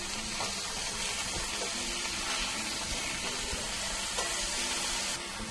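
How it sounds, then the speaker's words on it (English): Beef tenderloin steaks sear in olive oil over medium heat, giving a continuous broad, loud sizzle that sounds almost watery and holds steady throughout, close up with no voices. "Now I add the steaks and lower your heat to medium."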